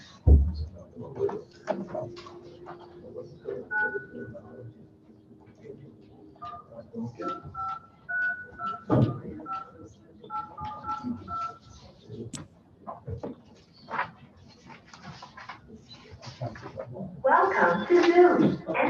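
Telephone keypad dialing tones calling into a Zoom meeting at a city council session, a series of short beeps in bursts between people talking nearby, with some handling and background clatter.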